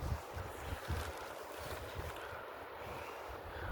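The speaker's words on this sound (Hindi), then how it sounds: "ठंडी ठंडी ठंडी हवा चल रही है।" Cold wind blows steadily across a high mountain near Badrinath, a continuous rushing roar with low buffeting gusts against the microphone. No one speaks.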